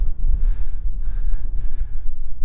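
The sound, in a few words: wind blowing outdoors on a windy day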